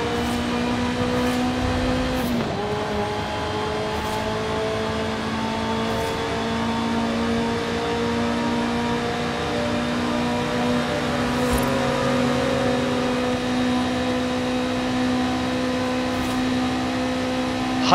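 Ferrari F40 Competizione engine in Forza Horizon 5, a loud sustained harmonic drone that dips sharply on a shift near the start, then climbs steadily as the car accelerates.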